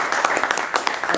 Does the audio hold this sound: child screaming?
no